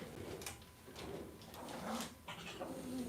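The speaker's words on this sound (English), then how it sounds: "For this joke, we're going to need a puppy dog." A puppy whimpers and yips in short, high, breathy bursts, fairly close and faint, with a little rustling between cries.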